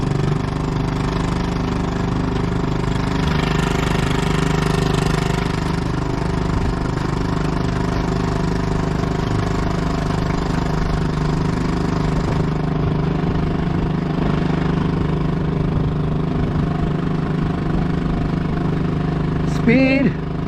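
Small outboard motor pushing a canoe against the current, running at a steady drone throughout, close and constant with no change in pace.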